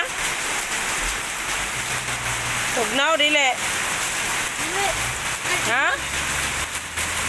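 Steady rain pours down as a dense, continuous hiss, close and loud, while people chat and call out in Cebuano over it.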